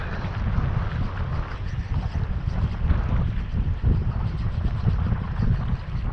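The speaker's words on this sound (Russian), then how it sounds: "Ветрище сегодня, конечно," Strong wind blows across a lake during fishing from a boat, a constant heavy low rumble of buffeting gusts against the microphone, loud and unbroken.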